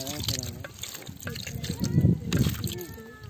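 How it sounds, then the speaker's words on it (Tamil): Curd poured over fish pieces for a biryani marinade at a roadside village cook-up, a soft wet glugging and sloshing under someone talking steadily nearby. "நம்ம வந்து லைட்டா தயிர் ஊத்தி நம்ம வந்து நல்லா ஊற வச்சிடலாம்."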